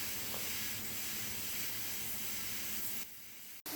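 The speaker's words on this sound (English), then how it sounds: "We're going to blast it away with the steam and simply wipe away." A vapor steam cleaner blasts car wheels with a loud, steady hiss that runs almost unbroken, then drops briefly near the end before a short burst resumes; no talking.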